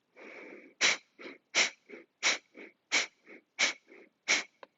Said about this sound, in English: Then inhale just to your normal capacity and then exhale.